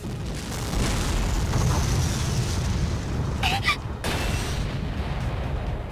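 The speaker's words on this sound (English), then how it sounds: "There's no time, the shot flies into us, an explosion." A loud visual novel game explosion as an incoming shot strikes: a rolling, roaring blast that sustains for seconds, punctuated by a couple of sharp bursts near the end.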